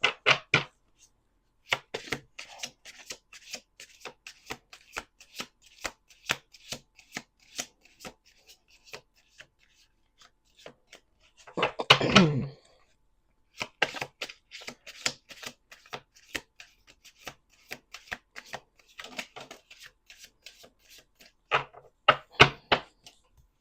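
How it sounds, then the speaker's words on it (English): Repeated riffle shuffles of a deck of cards, crisp rapid flutters in bursts with short pauses between, close and fairly quiet, with no talking. "Let's do 2 more shuffles."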